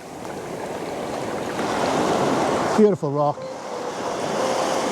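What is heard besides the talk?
sea waves washing in and out on rocks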